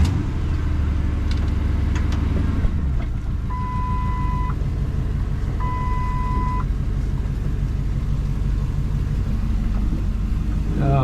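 A 2008 Lincoln F100 truck with a Crown Victoria engine swap drives slowly around a yard, its engine giving a steady low rumble with a short revving swell, while a few faint electronic tones chime over it.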